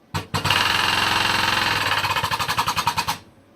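A rivet gun drives a rivet into a part: a loud, near burst of rapid mechanical hammering that runs for about three seconds, its blows growing more spaced and distinct toward the end before stopping.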